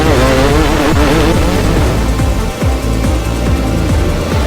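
Several dirt bikes ride past at the Elsinore Grand Prix enduro, engines loud and close, revving and shifting in overlapping passes with rising and falling pitch.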